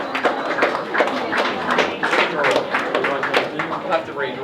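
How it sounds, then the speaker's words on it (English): A book-launch audience claps for a prize winner in a burst of uneven applause while people keep talking over it. "Round of applause."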